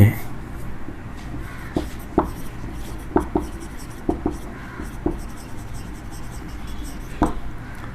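A teacher writes on a board during a Hindi-language physics lesson on electric current, giving sparse taps and scratchy strokes at irregular intervals under the room's background hum, with no speech over them.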